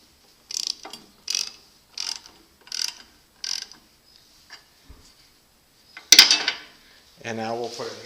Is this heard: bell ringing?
no